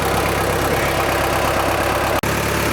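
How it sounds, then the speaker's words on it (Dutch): A diesel motor on a repair job runs at a steady idle with an even, pulsing low rumble that stays loud and close, cutting out for a split second near the end before resuming. "En dan gaan we die motor een half uurtje laten lopen"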